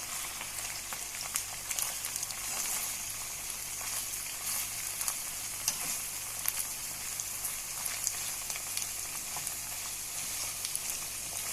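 Onions frying in a covered pan with meat and spices, a steady soft sizzle and crackle with faint popping throughout, no voices.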